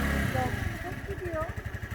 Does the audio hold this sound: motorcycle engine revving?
yes